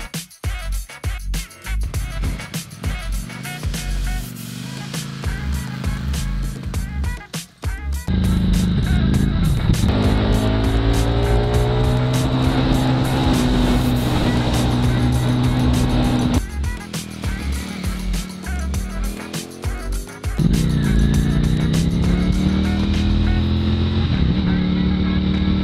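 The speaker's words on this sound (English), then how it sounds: "This is Ducati's V4S Panigale. So this is an 1103cc." A Ducati Panigale V4S 1103cc sport motorcycle is ridden hard, its engine roaring loud and close through rising revs and gear changes, with long sustained howls broken by short drops in pitch.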